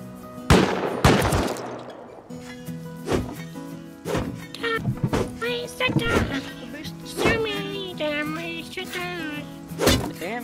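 Automated turrets fire in the Rust video game on a sky island base, delivering loud sharp bursts of shots early on, then scattered impacts and hits spread across the clip, with people talking over them.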